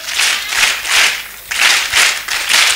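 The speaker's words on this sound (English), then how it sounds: "Mr. DJ, so we give him 3 very hearty claps. 1, 2, 3, go." An audience at a children's conference gives three hearty claps, each a loud, evenly spaced burst of massed hand claps, the set of three repeated twice with a brief pause between.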